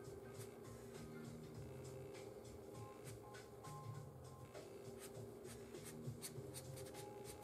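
Marker drawing short streaks of gray shading on paper for a rendering underpainting, a steady scratchy rubbing with quick repeated strokes, close and fairly quiet against a low background hum.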